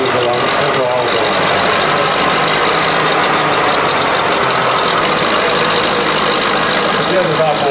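A vintage Porsche Super tractor runs at a ploughing-day event for veteran tractors in Hollola, its engine a steady, loud mechanical drone with a faint knock, nearby and constant throughout.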